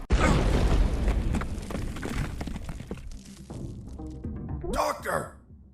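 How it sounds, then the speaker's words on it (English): A loud explosion in the stealth-action video game UnMetal bursts at once with a heavy booming blast, then rumbles and decays over several seconds as a voice speaks near the end. "An explosion."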